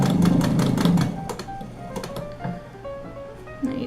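A sewing machine stitching a seam on fabric for a fall leaf pillow, with a close, rapid burst of stitching at the start that gives way to quieter, intermittent mechanical clicks.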